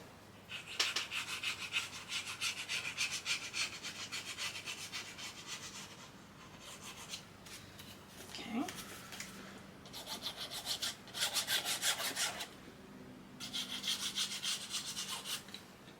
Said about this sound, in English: Go ahead and burnish that down.